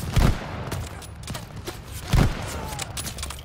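Rifle fire in the Call of Duty Vanguard campaign at the Battle of El Alamein: two heavy, booming shots about two seconds apart rise over a steady rumble of distant battlefield gunfire.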